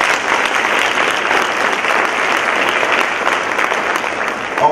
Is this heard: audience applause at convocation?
yes